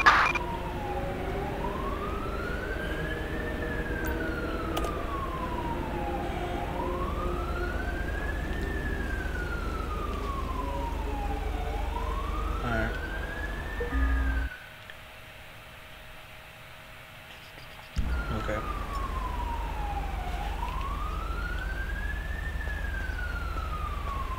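In the video game GTA V with the LSPDFR police mod, an ambulance siren wails in a slow rising and falling cycle over steady engine noise, cutting out briefly for a few seconds before resuming.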